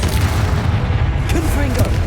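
Incendio fire spell in Hogwarts Legacy: a loud, continuous booming roar of flame with deep rumble throughout and brief crackling flares near the end, with game voices underneath.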